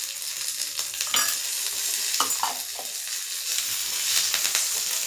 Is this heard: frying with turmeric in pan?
yes